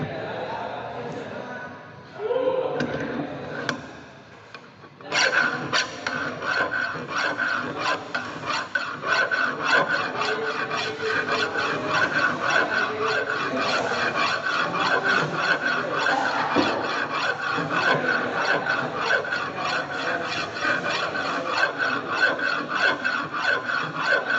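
Hand file rasping back and forth on a metal workpiece clamped in a bench vise, a steady close scraping rhythm of repeated strokes that starts after a few seconds of softer handling noise and a voice, then continues alone.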